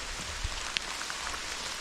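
Rain falls on a forest in June during mushroom picking in the Polissia region, a soft steady patter with a few distinct drops landing nearby.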